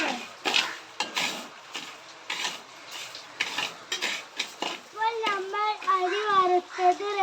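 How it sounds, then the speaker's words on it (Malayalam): Rice being dry-roasted in a pan, with repeated scraping and clinking of a spatula against the metal as it is stirred, fairly quiet, while people talk and someone speaks in the background. "അപ്പോൾ നമ്മൾ അരി വറുക്കുകയാണ്."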